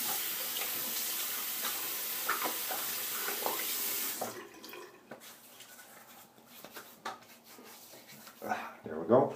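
Tap water runs into a bathroom sink during a shave, a steady hiss for about four seconds that then cuts off. Splashes and drips follow as hands wet a face, and someone talks briefly nearby.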